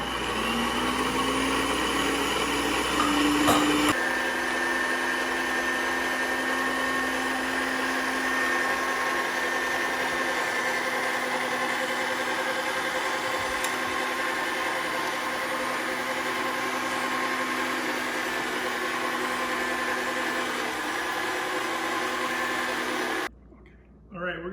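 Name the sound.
meat grinder grinding venison with fat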